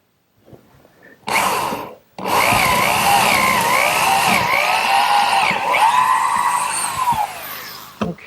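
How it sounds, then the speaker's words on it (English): A power drill with a 3/8 inch brad point bit bores dowel holes in wood, giving a short burst, a brief pause, and then a long, loud whine that rises and dips as the bit cuts. "for those dowels I'm going to use a 3/8 inch brad point bit"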